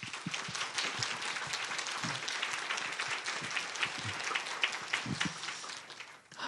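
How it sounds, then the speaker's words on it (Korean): A congregation claps steadily and densely at a church Christmas service, a loud sustained round of applause that fills the space with no talk over it. "우리 다 하나님께 영광의 박수를 돌리겠습니다."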